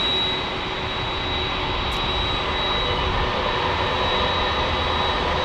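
A United Express Embraer E175 jet arriving from LAX, a loud, steady engine roar with a thin high whine running through it, close by and with no talk over it.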